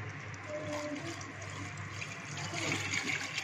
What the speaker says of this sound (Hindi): हम इसमें पानी डालेंगे